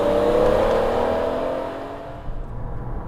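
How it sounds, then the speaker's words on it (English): A BMW Z3 M Coupe's individual-throttle-body engine revs hard with the throttle wide open, a loud, rising mechanical zing that holds then eases off into a lower steady drone. "It isn't until you open the throttle and all those throttle bodies go wide open that this engine really starts to zing."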